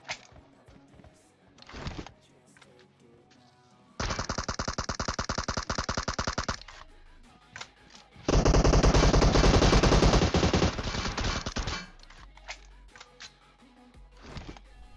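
Sustained bursts of automatic gunfire from a PUBG Mobile match, two long loud volleys of rapid shots with scattered single shots and game noises between them, no talking.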